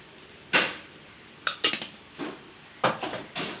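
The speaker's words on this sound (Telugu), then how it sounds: "ఇప్పుడు స్టవ్ ఆన్ చేసి కుక్కర్ పెట్టేసుకొని" A metal pressure cooker set down on a kitchen stove, giving a series of separate sharp clanks and clinks of metal on metal with short ringing tails, close and fairly quiet, and no talking.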